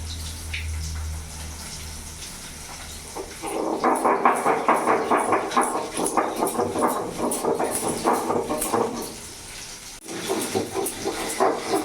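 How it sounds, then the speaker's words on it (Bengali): Ginger, dried and green chillies, cumin and coriander are ground on a stone slab with close, rhythmic back-and-forth rubbing strokes. The strokes are loud and repeat steadily and pause briefly before starting again. "এটা আমি ভালো করে শিলে বেটে নেবো"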